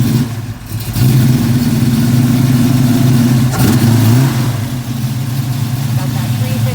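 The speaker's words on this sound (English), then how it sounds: "When they get that engine started" A 1972 Ford Mach 1 with a 351 four-barrel V8 catches and settles into a loud, rumbling idle nearby, with a brief blip of revs partway through and no talking.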